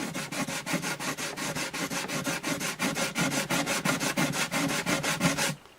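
Sandpaper rubs back and forth across the dot inlay on a wooden Alvarez Artist AD65 guitar bridge in quick, steady, evenly spaced strokes, close up, ending abruptly.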